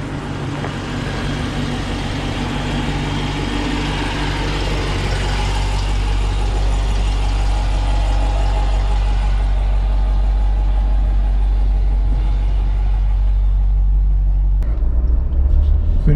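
A 2021 Jeep Grand Cherokee L Overland drives over a rutty, washboard road, giving a steady low engine and road rumble with rattling thumps from the cabin, loud and continuous, ending in a brief sharp knock.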